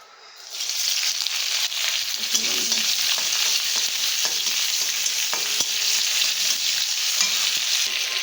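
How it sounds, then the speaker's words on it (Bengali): Onions frying in a pan for a white vegetable curry, with a loud sizzle that swells in within the first second and then holds as a dense, even hiss, marked by faint crackles. "কয়েক মিনিট ভালো করে পেঁয়াজটাকে আমি ভেজে নেব"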